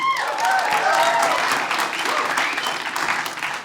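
Loud, dense audience applause at a stand-up comedy show fills the room steadily throughout, with faint crowd voices mixed in, easing slightly toward the end.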